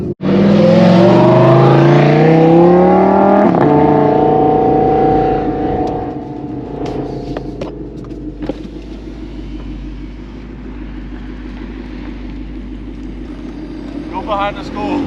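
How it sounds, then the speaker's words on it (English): A worn-out Ford Mustang rolls up with a loud, steady engine rumble that swells at the start and then settles into a lower, continuous drone close by. "As I'm rolling up in my shitbox Mustang."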